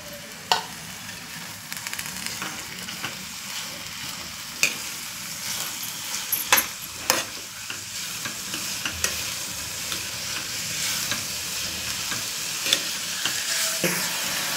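Onions fry in a pan until reddish for cauliflower bhurji, giving a steady close sizzle with irregular scraping stir clicks throughout and no talking.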